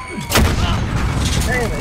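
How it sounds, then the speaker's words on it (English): A grenade detonates in Call of Duty: Warzone, one loud booming blast near the start followed by a rumbling tail, with a voice briefly heard over the game sounds. "Grenade out."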